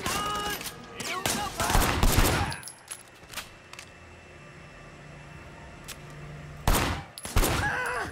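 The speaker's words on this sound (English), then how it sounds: "firing shots from the passenger window" Gunfire in the open-world action game Sleeping Dogs, bursts of rapid close shots in clusters at the start and again near the end, separated by a quieter stretch with faint background hum.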